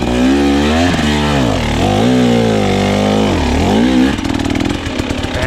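Dirt bike engine on a hard enduro obstacle climb, loud and close, revving up and down in repeated surges as it climbs, then dropping into a rough, choppy idle near the end.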